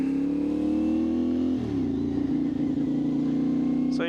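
A KTM 450SS motorcycle engine drones loud and close while riding around the block, holding a steady tone, then dropping pitch as the rider shifts or eases off before settling again.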